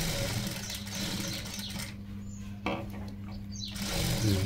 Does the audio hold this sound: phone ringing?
no